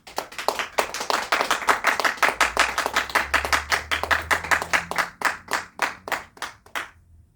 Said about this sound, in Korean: 영광, 박수 올려드리겠습니다.